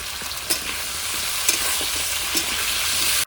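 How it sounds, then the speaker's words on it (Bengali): Potato and papaya pieces with salt and turmeric fry in hot oil, giving a loud, even sizzle up close with a few soft bumps of stirring and no speech over it. "আলু আর পেঁপে আমার ভাজা হয়ে গেছে, এবার তুলে নিচ্ছি।"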